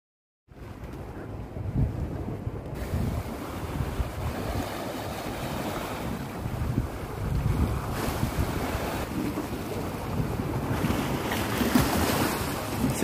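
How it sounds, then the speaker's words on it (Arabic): Ocean waves breaking on the shore at Cap de l'Eau, a steady loud wash of surf with strong wind buffeting the microphone, continuous and without talk throughout. "اسمع اصوات امواج"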